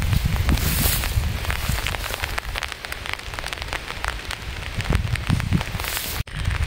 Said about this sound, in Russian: Только вот дождик нам все испортил.